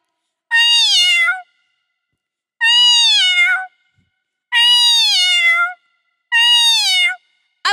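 A human voice imitates a tomcat calling to a female cat with four long, drawn-out meows, loud and close, separated by short silences, with no other talk.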